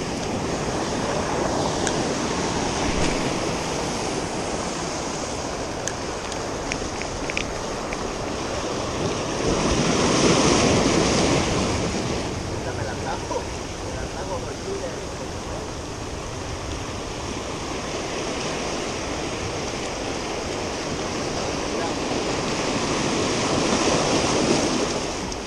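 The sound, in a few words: strong ocean waves on beach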